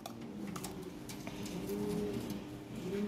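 Lahori Sirazi pigeons coo softly and repeatedly at a pigeon sale, low rolling calls continuing steadily through the short stretch amid faint background clatter.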